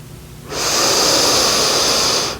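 A single deep yoga breath, close and loud, with a long, steady airy rush starting abruptly after a short pause and sustaining for about two seconds before easing off.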